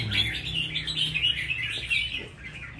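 A wild-caught red-whiskered bulbul in a cage being trained beside another bird, giving a steady stream of bright chirps and twittering calls, fairly close and loud.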